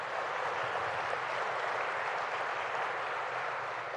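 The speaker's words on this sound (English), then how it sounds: "I'd like to give Tom in particular a round of applause." Steady audience applause at a ribbon cutting for a water park in Oswego, a faint, even wash of many hands clapping without a break.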